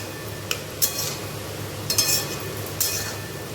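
Cauliflower florets going into a pot of cooking masala for a Bengali cauliflower rasa curry, with a few sharp clinks of a metal spoon against the pot and soft stirring scrapes at close range, no talking.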